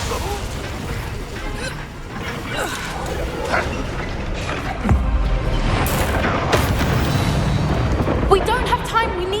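Spell explosions in the Hogwarts Legacy game, with a deep boom near the middle and other bursts amid loud combat effects, all under spoken incantations.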